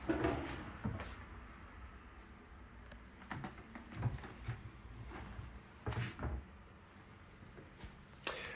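Kitchen drawers in a rental flat are pulled open and pushed shut one after another, making faint wooden thumps, slides and clicks scattered across a quiet room.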